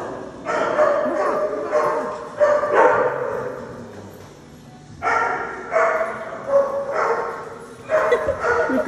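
Loud repeated bursts of dogs barking nearby, coming in rhythmic clusters with a short lull in the middle before the barking resumes.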